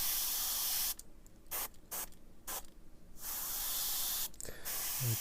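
An airbrush set to 20 psi with a 0.4 mm nozzle sprays paint in a run of sharp hissing bursts, several short blasts separated by brief gaps, followed by a longer continuous spray, close and fairly loud.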